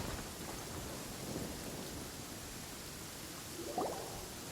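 Steady rain pours over a thunderstorm in a game, with a low rumble of thunder and a sharper crack near the end, no voices.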